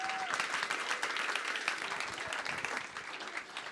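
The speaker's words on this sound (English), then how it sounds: "So big round of applause to our coaches" Audience applause at the Amplify Ignite 2017 event, a short burst of many hands clapping together at moderate level, steady throughout and fading a little at the close.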